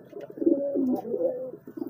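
A racing pigeon and a homing pigeon coo softly together, a short run of low, throaty warbling notes close by, with no talk.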